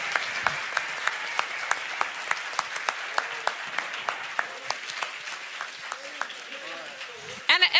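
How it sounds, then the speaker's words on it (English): An audience applauds after a Bitcoin versus gold debate: steady, evenly spaced claps ring out for several seconds and fade, with a voice beginning to speak at the very end. "A round of applause for our team."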